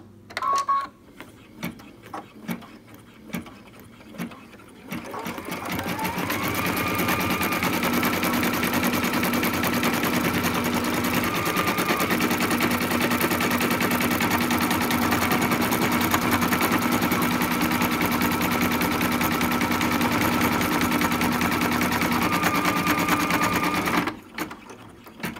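An embroidery machine stitches a teal X for an in-the-hoop snap-tab kitty, a fast, continuous mechanical whirring with steady needle rhythm that runs for about twenty seconds after a few short clicks, then stops abruptly.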